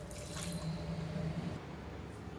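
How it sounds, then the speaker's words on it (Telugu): Water poured into a pan of Andhra-style mutton curry seasoned with turmeric and salt: a soft, steady splashing trickle, close but quiet, with a few drips and no talk. "కొంచెం వాటర్ యాడ్ చేసుకుందాం."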